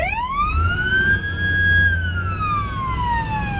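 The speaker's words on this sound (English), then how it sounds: "It takes a dire situation to hear the sirens" A wailing siren sweeps up and slowly back down in pitch, loud and close, over a low engine hum.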